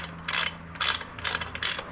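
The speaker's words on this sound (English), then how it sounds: "we're going to go ahead and snug these up" Ratchet wrench snugging bolts on a Steelwrist X04 gripper cassette, four quick clicking ratchet bursts at a steady pace, close and fairly quiet with no talk.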